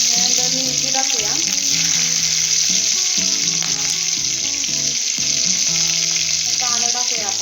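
Green chillies fry in hot oil with cumin and curry leaves for masala idli, a loud steady sizzle close by with a tonal melodic pattern running underneath.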